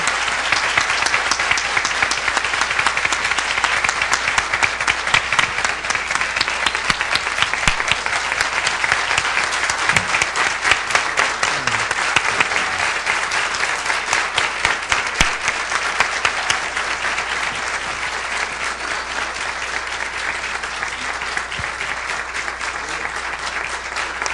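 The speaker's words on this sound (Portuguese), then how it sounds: "uma grande salva de palmas aqui para ela" Long, steady applause from a large audience honouring a woman at a Brazilian mathematics teachers' programme, dense and even for over twenty seconds with only a slight fade near the end.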